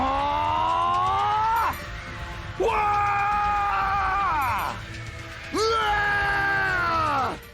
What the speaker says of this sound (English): One of them is almost a one-to-one impression of Goku screaming.